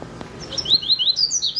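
A coleiro, or double-collared seedeater, sings close by in a rapid series of bright, high chirped notes following a couple of soft thumps.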